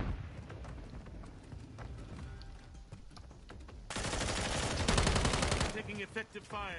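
Bursts of automatic gunfire in the game Call of Duty Modern Warfare 3, sharp repeated shots building to a heavy sustained volley, with voices talking over it.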